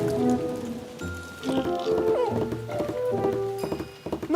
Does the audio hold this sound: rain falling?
yes